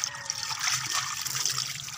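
Water trickles and splashes steadily while puffer fish are being cleaned, a continuous close pour with no talking over it.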